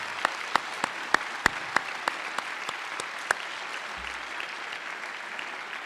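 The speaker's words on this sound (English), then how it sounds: "One more round of applause for everyone that's helped with this assembly." A crowd applauds steadily at a high school Veterans Day assembly, a dense wash of clapping in a large room, with a few sharp individual claps standing out near the start.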